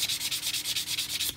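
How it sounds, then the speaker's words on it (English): Mr Surfacer primer on a scale model is sanded by hand, a close, fairly soft rhythmic rasping of quick back-and-forth strokes, about ten in a row, with no one speaking. "when you sand it, you can also see it's pretty durable for sanding"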